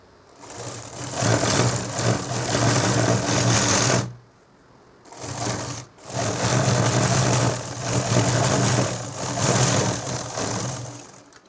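An electric sewing machine stitching a cotton nightie at home runs in long, steady bursts of rapid whirring, stopping briefly twice before starting up again, close and alone.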